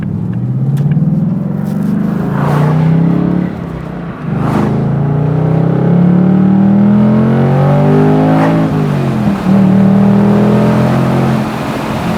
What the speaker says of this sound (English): that stock exhaust sounds magnificent with the valves open